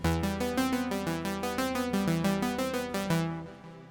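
A bright synth arpeggio from the Stranger Things theme, built in Ableton, steps rapidly through a repeating chord pattern over a sustained low tone, loud and alone, then rings out and fades near the end.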